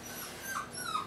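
A puppy whimpers and cries in thin, high, wavering whines, faint and close, in a brief uneasy burst after a sudden noise startled it.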